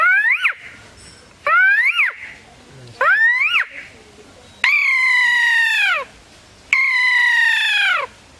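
A human voice imitates an eagle's call: three short, rising shrill cries followed by two longer, sustained screeching whistles, each clearly separated by silence.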